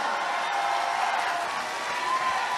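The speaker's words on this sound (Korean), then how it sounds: "우리 이재명 후보님께 뜨거운 박수로 화답합시다" A large crowd at an outdoor political rally in Busan applauds candidate Lee Jae-myung, producing a dense, steady wash of clapping that holds at an even, loud level throughout with no break.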